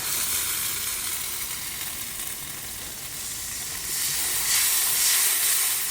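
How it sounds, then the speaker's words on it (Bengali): Spiced water hitting a hot pan while cooking a vegetarian potol posto paneer, giving a steady, close sizzle and hiss that swells louder toward the end. "মশলা দেওয়া জলটা দিয়ে দেবো।"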